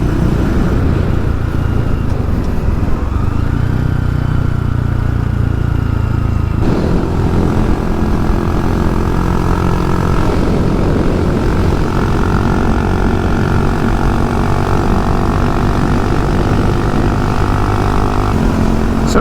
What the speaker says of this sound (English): So it's certainly throatier than the standard exhaust